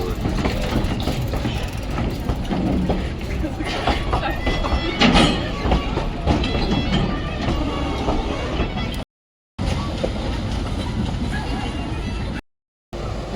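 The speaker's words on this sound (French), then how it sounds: "Un train s'arrête et l'autre repart." A train in Maramureș, Romania, rumbles steadily nearby as one train stops and another pulls away, a continuous low mechanical roar with faint clatter, set beside water outdoors, with brief dropouts.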